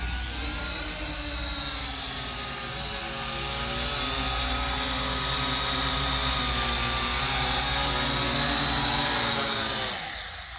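A Syma X8C FPV quadcopter drone with a 2MP camera flying and coming in to land, giving a loud, steady, close high-pitched rotor whine and buzz that holds for about ten seconds, then cuts out as it touches down.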